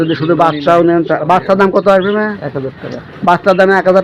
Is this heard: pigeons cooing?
yes